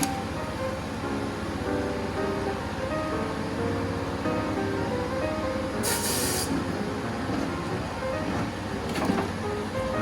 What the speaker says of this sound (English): Got tire lube here.